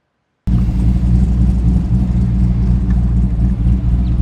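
A 1965 Chevrolet Corvette roadster resto-mod in Rally Red with a swapped-in LS2 V8 rumbles loud and close, a steady deep engine drone after a short silence.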